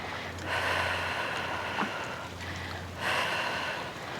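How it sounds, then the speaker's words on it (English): Long, deep breaths in and out during a Pilates and barre workout come in two slow, audible breathy swells a couple of seconds apart, close and unaccompanied by speech. "Long deep breathing."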